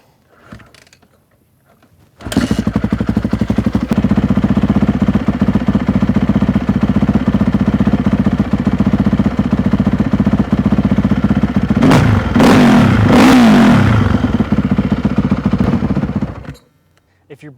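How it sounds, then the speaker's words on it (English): A Honda CRF 450 dirt bike with a newly installed electronic jet kit kicks over and fires up, then runs loud and steady near the listener for about fourteen seconds, with a few sharp revs toward the end before shutting off. "we can give it a kick and make sure it starts up."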